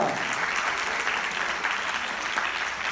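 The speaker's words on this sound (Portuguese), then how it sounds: "Uma salva de palmas para a nossa lagartixa." A live hypnosis show audience gives a steady round of clapping for a participant. The dense hand claps carry evenly from start to end, with no voices.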